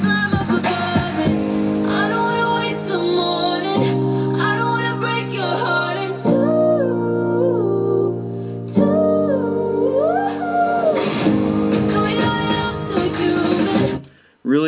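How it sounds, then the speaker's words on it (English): An energetic EDM pre-chorus from a track plays loudly, with punchy drum hits driving under layered piano chords and guitars, the melody shifting in short sections before cutting off abruptly at the end. "Really energetic pre-chorus, in my opinion, because there's a lot of drum hits and stuff going on here."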